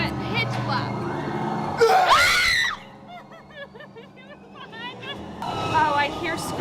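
Screams ring out inside a pitch-black haunted attraction, a sharp loud shriek bursting out amid anxious chatter and whimpering, then fading into quieter murmurs before voices rise again.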